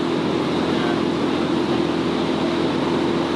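Dodge Charger engine idling high, a steady loud drone with no change in pitch over a few seconds, heard close and alone.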